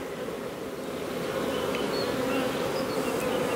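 A dense swarm of honeybees drones around an open hive, a continuous close buzz that swells slightly louder as it goes, with no voices.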